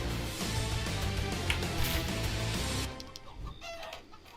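A chicken clucks in a Roblox game. There are short, rapid clucks over game noise, steady for about three seconds, then fading.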